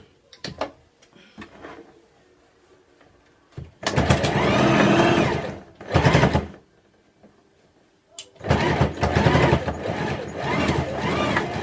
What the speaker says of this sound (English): Now I'm sewing the other side.